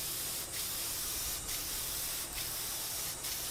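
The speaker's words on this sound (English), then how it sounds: "And here's the lid being sprayed up." Spray finish hissing onto a wooden inlaid box lid in short bursts, four quick passes spaced about a second apart over a steady background hiss.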